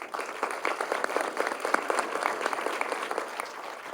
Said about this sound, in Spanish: Agradecemos a nuestras panelistas con un fuerte aplauso